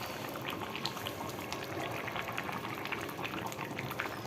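Beef curry with new potatoes simmers in a pot, giving a soft, steady bubbling that stays even and fairly quiet throughout, with no voices.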